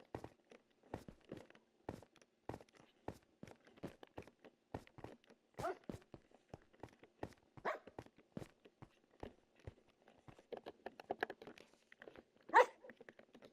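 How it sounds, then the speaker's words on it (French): Two dogs in a Minecraft survival game give repeated short barks at an uneven rhythm throughout, fairly close and clear, with some crunchy footstep-like sounds mixed in. "J'ai trouvé 2 chiens. Deux chiens."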